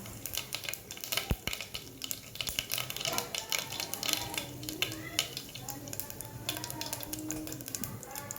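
Mustard seeds and cumin crackle in hot oil with a dense, fine popping that runs throughout, broken by sharp clinks and scrapes of a utensil against the pan.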